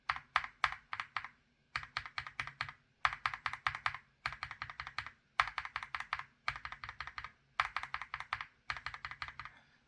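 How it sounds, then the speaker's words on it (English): A mechanical keyboard fitted with lubed Wuque WS Morandi long-pole switches is typed on in quick bursts of crisp, even keystrokes, each flurry separated by a short silence, heard close and without talk. "Now let's go to the lubed version when it comes to the Morandi."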